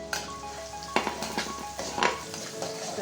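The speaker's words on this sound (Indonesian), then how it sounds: "Langsung saja kita tumis bawang putihnya terlebih dahulu ya sobat. Lalu kita masukkan bawang merah." Garlic and then shallots stir-fried in hot oil for an Indonesian anchovy, tofu and tempeh stir-fry, giving a steady close sizzle with clinks and scrapes of a utensil stirring in the pan.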